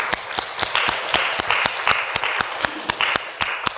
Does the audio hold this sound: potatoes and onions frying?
no